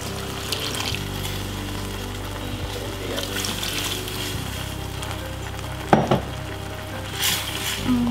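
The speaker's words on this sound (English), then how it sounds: "I'm just gonna stir everything in" A pan of satay peanut sauce with peanuts, sugar, salt, tamarind juice and water simmers and sizzles steadily while being stirred, with a few clinks and scrapes of the utensil near the end.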